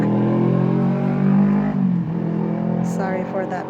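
Car revving and passing on a major street beside a garden: a loud, close engine roar that swells and then fades away, while a person keeps talking over it.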